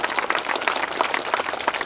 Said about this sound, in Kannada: ಒಂದು ಜೋರಾಗಿ ಚಪ್ಪಾಳೆ ಮೂಲಕ ಒಪ್ಪಿಗೆ ಕೊಡ್ರಿ.